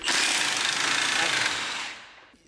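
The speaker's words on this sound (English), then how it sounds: "This is the Milwaukee Half Inch Impact." A Milwaukee half-inch impact wrench works on a cheap Jeep Wrangler Rubicon JK, giving one loud, continuous burst of hammering rattle for about two seconds before tapering off abruptly.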